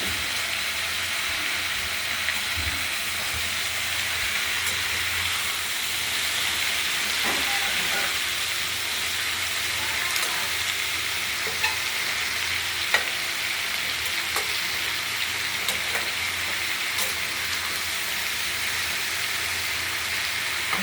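Mixed vegetable curry of taro, pumpkin, ridge gourd, jackfruit seeds, drumstick and pointed gourd with fish sizzles steadily in a pan, with occasional scraping stirs. The sound is close, continuous and even, with no talking.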